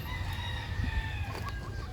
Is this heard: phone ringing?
no